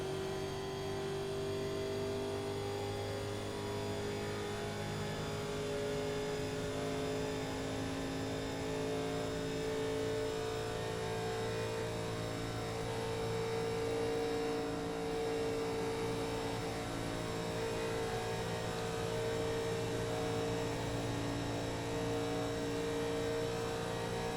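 Race car engines at Talladega in a racing video game, a steady sustained drone with droning harmonic tones holding nearly constant pitch, loud and continuous with no voices.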